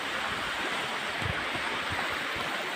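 Bunsuran Falls roars as a steady, dense wash of falling water, close and unbroken, with no voices.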